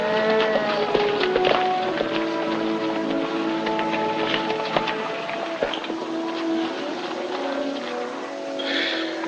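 A herd of cattle lows continuously in an old western film scene, with overlapping moos near and far running steadily throughout and no talk.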